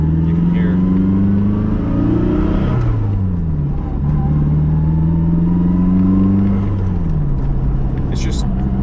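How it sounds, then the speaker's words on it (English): A Nissan 240SX with an SR20 engine driving along, a steady engine drone with a whining tone that rises and falls through gear changes, loud and close inside the car. "you can hear there's a lot of transmission whine in every gear except for fourth gear"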